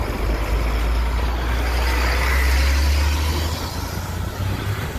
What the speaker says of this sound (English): here comes the freaking truck